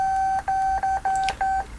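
Keypad beeps from a Motorola StarTAC phone: a steady electronic tone broken into about five quick presses in a row, loud and close, with faint clicks between them.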